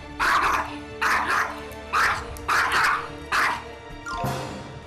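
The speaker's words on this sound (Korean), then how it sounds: "온 사방을 다니며 짖어대는데요." A fearful, poorly socialized puppy barks in five sharp, loud bursts about a second apart, each yap ringing with bright harmonics, followed by a softer whining yelp at the end.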